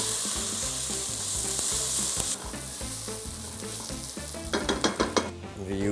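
Tomato puree seasoned with cumin roasts in a hot pan, a loud, steady sizzle with rhythmic stirring and scraping knocks throughout, turning brighter and more crackly near the end.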